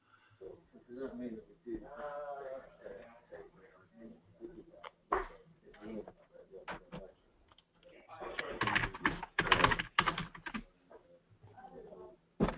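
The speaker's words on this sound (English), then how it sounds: "I can hear someone typing" Someone typing on a computer keyboard during an online webinar, scattered clicks and bursts of keystrokes, strongest in a busy flurry midway, mixed with speech.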